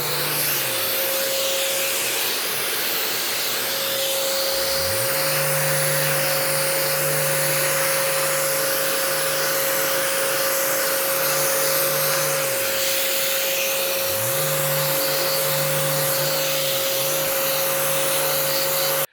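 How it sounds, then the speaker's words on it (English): A palm sander sanding a flat cabinet door runs continuously with a steady high whine and buzzing hum, its pitch dipping briefly twice as it is worked across the surface. "Let the sander do the work."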